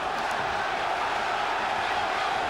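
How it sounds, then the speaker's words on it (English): A boxing arena crowd roars in a continuous, dense wash of cheering and shouting during an IBF welterweight title fight, loud and unbroken throughout. "you can hear the crowd. It's a Simon Brown crowd."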